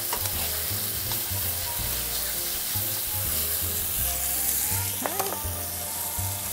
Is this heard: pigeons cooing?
no